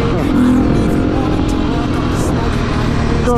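A Beta motorcycle engine drones and revs steadily close by, a continuous buzzing roar with a voice faintly in the background.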